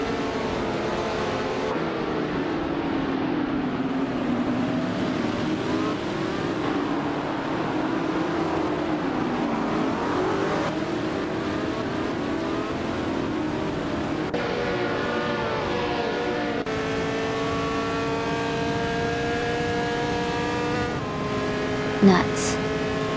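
1968 McKee Mark 12 race car in a racing video game, engine droning steadily and shifting pitch through gears, later joined by several higher engine tones as other cars pass, ending with a short sharp sound.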